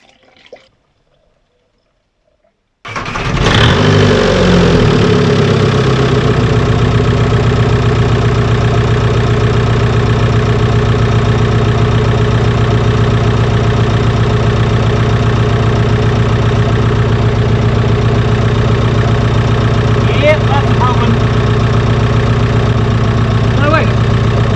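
A van's engine turning over and catching after a quiet pause, then settling into a loud, steady, close-up idle with a low rumbling drone that runs unbroken to the end.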